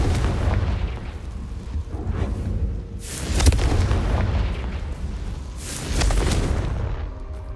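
Rapid spell combat in Hogwarts Legacy ends in a Confringo blast, with heavy booming explosions and bursts rolling through the scene, two especially loud detonations standing out amid continuous rumbling battle noise.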